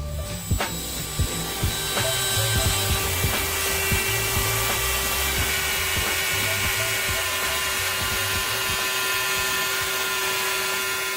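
A handheld portable router cuts a groove in wood, guided by a side fence, in a loud, continuous high-pitched whine with a steady grinding tone after a brief start-up. Nobody speaks.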